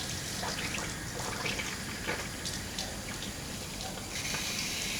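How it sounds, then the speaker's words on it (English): Tap water runs steadily through the radiator of a 2008 Proton Inspira / Mitsubishi Lancer during a coolant flush, a continuous close-up splashing rush with no talk. "we'll run pipe water through this"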